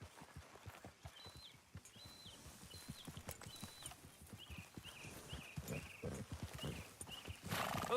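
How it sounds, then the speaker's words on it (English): Horse hooves clip-clopping at a steady trot in Red Dead Redemption 2, close and rhythmic, with high whinnying calls and some background game ambience mixed in. "Grab your horse and let's go."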